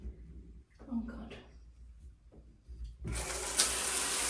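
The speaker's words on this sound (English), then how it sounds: "So yeah, nice like waterfall shower." A waterfall shower in a Chester Grosvenor hotel bathroom is turned on after a short spoken passage, then pours as a loud, steady, close rush of water.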